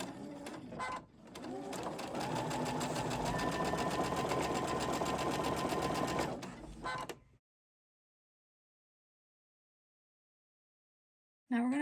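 A sewing machine stitches a dog bandana, running in one steady, close whirring burst of about six seconds. Brief handling noises come before it, and after it stops the clip stays silent.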